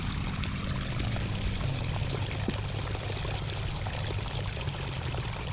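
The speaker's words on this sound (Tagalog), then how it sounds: "dapat talaga tuloy-tuloy po ang papasok ng tubig" Irrigation water pours steadily into a rice field on a farm, a continuous close rushing and splashing flow with no voices.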